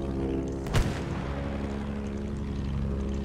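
A propeller plane in Battlefield 1 gameplay drones steadily past, with a sharp boom partway through amid constant engine noise and no talk.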